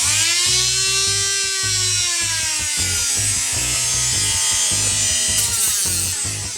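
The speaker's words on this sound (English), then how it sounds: "you can just use a Dremel to sand it down" A Dremel rotary tool sands down excess edges of a paintball part, a high steady whine with rising and falling pitch and a gritty rubbing texture, close and loud.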